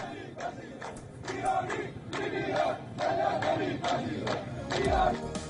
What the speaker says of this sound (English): Another showed a large crowd chanting, "Rouhani, shame on you, leaving the country alone."